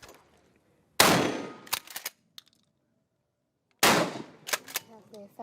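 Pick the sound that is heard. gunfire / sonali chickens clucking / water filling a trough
gunfire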